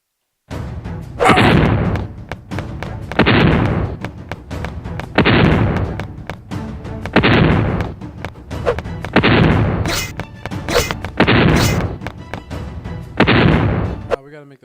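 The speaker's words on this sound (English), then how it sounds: "We gotta make those explosions smaller because that's so unrealistic." Repeated bursts of booming video game explosion effects in a mobile battle game under development, loud and broadband, arriving roughly every one to two seconds with brief sharp crackles between them.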